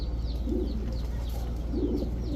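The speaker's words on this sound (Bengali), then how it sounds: "এটা কোন লেভেলের কবুতর, এটা এত ভাইব্রেশন করে" Close and steady, a male giribaj pigeon coos in a low, throaty, vibrating rumble with two swelling pulses, while thin distant bird chirps sound above it.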